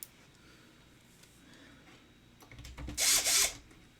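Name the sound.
Snap-on electric screwdriver driving power supply screws into a PC case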